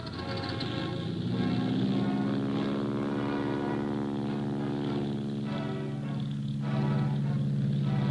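Early propeller training aircraft flying, a steady loud droning engine and propeller hum that holds throughout with a slight rise in pitch, no voices.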